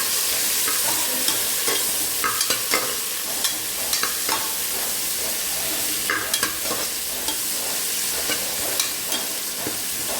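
Mint and coriander leaves stirred in a hot frying pan: a continuous loud sizzle with repeated scraping strokes of the spoon throughout, close up.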